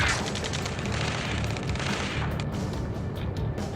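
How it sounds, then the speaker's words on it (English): Sustained automatic gunfire and explosive booms from the combat flight game Ace Combat 7, a dense, loud barrage running continuously with no speech. "Taking fire! We're pinned down! Shoot back!"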